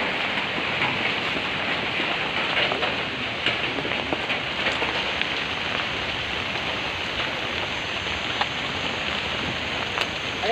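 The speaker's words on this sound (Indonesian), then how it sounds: "Nah, hujan maghrib." Evening rain falls steadily outdoors at dusk, a dense even hiss of drops pattering on surfaces close by, with occasional louder drips and no voices.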